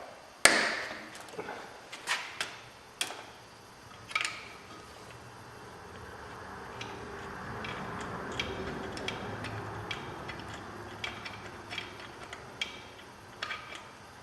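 An Allen wrench turns out a bracket bolt on a KT100 kart engine being converted, giving a series of sharp metallic ticks and clicks, irregular and close, with quieter scraping between them and no talking.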